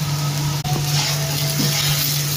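Chicken filling fries in a pan with meat masala, producing a steady close sizzle with a low constant hum beneath it. A brief clatter of stirring breaks in once, and no one speaks.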